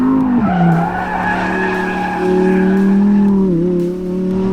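Lamborghini Huracan STO with a naturally aspirated 640 hp V10 screams at high revs on a race track, loud and close, pitch dipping briefly with gear changes and tire squeal over the sustained engine howl.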